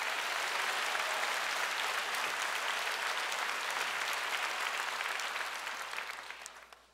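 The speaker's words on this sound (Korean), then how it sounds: "우리 다 같이 하나님께 박수 한번 합시다" A church congregation applauds together for God during a Korean service in the 40 Days of Passion series: dense, steady clapping fills the room for about six seconds, then thins and fades out at the end.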